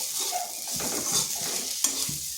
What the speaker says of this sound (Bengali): একটু ভালোভাবে আলুগুলোর সাথে মিশিয়ে নিচ্ছি।